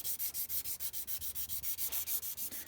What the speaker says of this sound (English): Now I'm going to start sanding with 600.